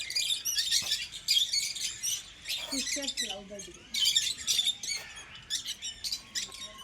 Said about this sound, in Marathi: मित्रनो ये पहा फिजियर्स लवबर्ड